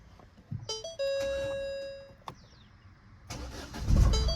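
A 2018–2019 Ford Figo Aspire Titanium Plus with a single owner starts up: a starter tone and chime give way to a catch and a brief rumble, then a louder close-up engine surge near the end.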